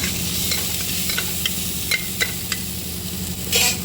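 Chopped onion and green chili stirred in a hot pan of oil, a steady low sizzle with scattered scrapes and taps of the spoon, and a sharper spatter near the end.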